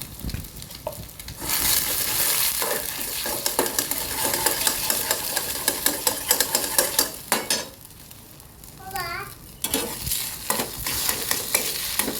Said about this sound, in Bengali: আমরা প্রথমে তো ডিম ভেজে নিচ্ছি